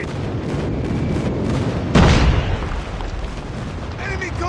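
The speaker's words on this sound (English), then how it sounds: "Friendly airstrike incoming." A video game airstrike lands as one loud, sudden blast with a rumbling tail, rising out of a constant wash of battlefield noise. A radio-style game voice is also heard in the background.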